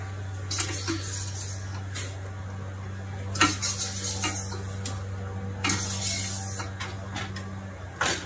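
A spoon stirs and scrapes a pulled pork pasta casserole mixture in a bowl, with a few sharp utensil clinks and soft mixing scrapes at irregular intervals, close and moderate, no talk.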